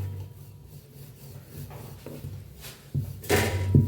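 Rolling pin pressing pumpkin dough sprinkled with poppy seeds on a kitchen surface, soft rubbing and rolling strokes building louder toward the end, close by with no talk.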